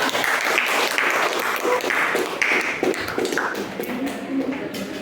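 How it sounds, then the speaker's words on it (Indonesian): Classroom applause for a student group returning to their seats, a busy patter of many hands clapping unevenly for several seconds, mixed with taps, shuffling and murmured voices. "tepuk tangan sekali lagi untuk kelompok 6"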